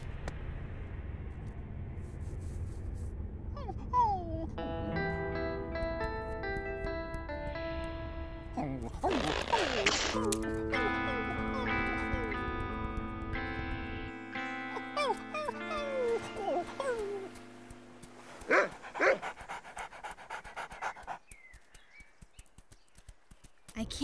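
A cartoon dog in an animated dinosaur series whimpers and whines in drawn-out, pitch-bending tones with bursts of panting and scuffling, interspersed with clattering effects and a moment of voice.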